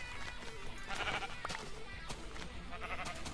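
Sheep bleating in the video game Minecraft, a few short wavering bleats over a quiet background with soft game ambience.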